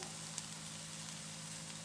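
Soya chunks and tomato frying in a pan for soya varuval, a steady soft sizzle with faint crackle throughout, quiet and close with no talk.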